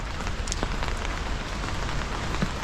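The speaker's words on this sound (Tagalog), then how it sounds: "Lakas ng ulan." Heavy rain pours steadily onto surfaces nearby, a dense, loud, continuous hiss with scattered drips and splashes and no voices.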